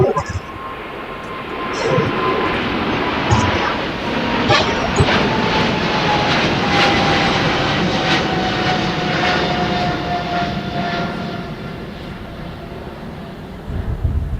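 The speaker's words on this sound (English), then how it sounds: "On a 737-700. This plane is approximately 19 years old." Southwest Airlines Boeing 737-700 jet airliner, about 19 years old, at LAX, giving a steady, loud jet engine roar that holds for the whole span with a faint whine on top, heard outdoors with no talk.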